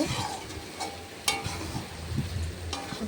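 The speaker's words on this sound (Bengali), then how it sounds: "সুন্দর করে কষিয়ে নিচ্ছি" Soybean chunks and potatoes sautéing in a pan, with a soft, steady sizzle, scraping stirs and a sharp clank of the spatula partway through, moderately quiet and close.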